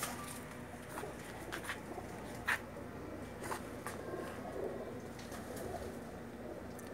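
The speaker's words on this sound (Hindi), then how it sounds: "लाल मोतियों वाला स्पेशल कबूतर" A special red-pearl pigeon coos softly amid steady outdoor background noise, with a few sharp brief clicks scattered through and no talking.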